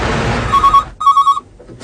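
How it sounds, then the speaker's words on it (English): An old-style telephone bell rings loud and close in two short bursts with a brief pause between, over a dense background of music or noise. "She took 2 phone calls from men who called themselves Johnny and King Kong"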